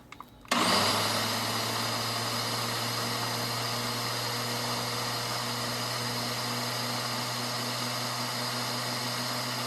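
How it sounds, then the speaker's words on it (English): A blender starts abruptly and runs loud and steady with a high whine, purring roasted red pepper sauce into a fine puree; no one speaks. "we're going to blend that up really, really fine"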